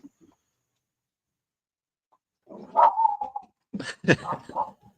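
Dogs barking at a distance indoors, a couple of bursts of barks and yips after a near-silent start, loud and alone with no talking.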